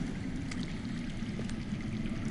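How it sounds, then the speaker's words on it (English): In the Game of Thrones video game, underground water flows with a continuous low rushing and gurgling wash that is steady and moderately faint throughout. "That's water. I hear water. From underground."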